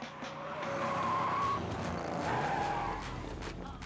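A movie car pulls off an auction lot with its tires squealing and skidding, the engine surging underneath in two long loud pushes, close by.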